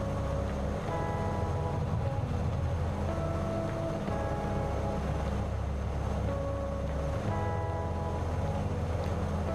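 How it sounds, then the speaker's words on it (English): Steady droning engine of a Bonanza light aircraft in a flight simulator game, a continuous loud hum with rough, uneven tones that sound strained, running throughout without talk. "So the engine doesn't sound very happy."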